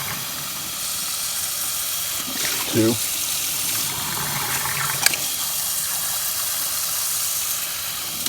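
Tap water gushing into a pot over boiled eggs, a steady hissing rush with a brief gurgling splash midway and a clink, while someone counts aloud over it.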